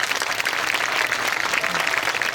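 Congregation at a night church service breaks into loud, sustained applause, many hands clapping densely together with no clear pauses.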